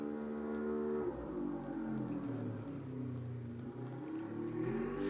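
A low engine drone hums steadily throughout, its pitch shifting as a small motor revs and passes at a moderate distance.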